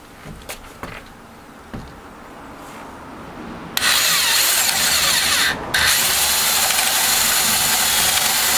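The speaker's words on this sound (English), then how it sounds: "And you see how kick-ass that drill is." A power drill used to bore guide holes in a MAME arcade cabinet control panel top, quiet handling noises first, then a loud steady whine that dips briefly and resumes, up close.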